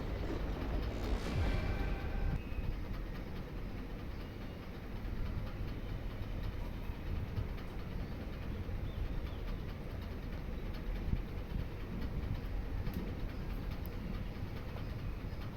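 A long train rolls past a level crossing near Dharamtul station in Assam as a continuous low rumble with steady wheel noise, close and unbroken for the whole stretch, with no voices.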